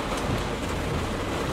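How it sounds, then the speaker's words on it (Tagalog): Heavy rain driven by wind in Cavite makes a steady, dense rushing hiss with a low rumbling undertone, continuous and fairly close throughout. "bubuhos ulit yung malakas na ulan"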